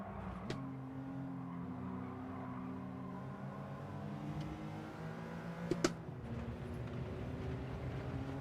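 A BMW race car engine in a racing video game, steady high-pitched whine with climbing tones as the car accelerates on the gas, a brief shift or bump midway, heard alone without talk.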